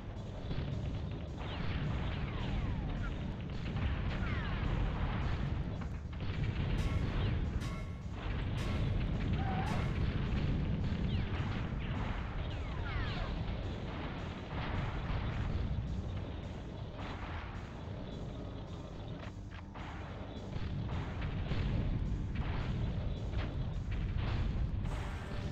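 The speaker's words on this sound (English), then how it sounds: "Plasma bolts." Rapid plasma bolt weapon fire in the N64 tank combat game BattleTanx: Global Assault, a dense continuous barrage of booming blasts and crashes running throughout with no talking.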